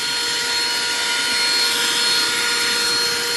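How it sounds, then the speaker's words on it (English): A cordless car and home vacuum cleaner running steadily, with a loud, constant whirring motor whine and airy suction hiss, close up and unbroken throughout. "You can see how powerful this vacuum cleaner is"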